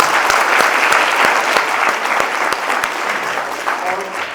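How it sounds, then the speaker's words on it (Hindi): Dense, loud applause fills a school award ceremony hall as an audience claps steadily throughout with a crowd murmur beneath. "तालियां।"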